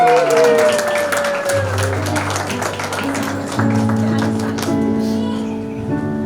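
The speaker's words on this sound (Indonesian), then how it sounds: "Tepuk tangan." Guests clap at a wedding ceremony right after the vows, a steady patter of hands sitting beneath sustained music and a voice.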